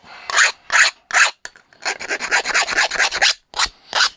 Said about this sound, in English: I'm deburring this so I can use it.